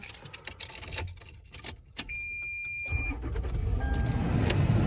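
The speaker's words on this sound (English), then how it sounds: "I'm gonna turn the car on." A car engine is started after jangling keys and clicks inside the vehicle, then settles into a steady idle hum that builds toward the end, heard from the driver's seat with no talking.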